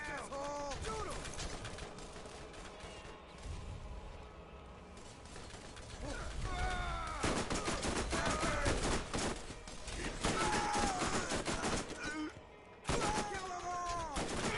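Borderlands 1 firefight: bursts of video-game gunfire and shots crackle throughout, with shouted voices and game dialogue over the shooting, growing denser and louder in the second half.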